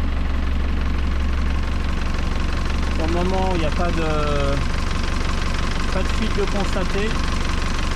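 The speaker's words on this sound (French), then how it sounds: "Bon, le moteur est démarré." A Yanmar 4JH marine diesel engine idles after a rebuild, a steady, close, low rumble with an even pulsing beat. Someone speaks French over it.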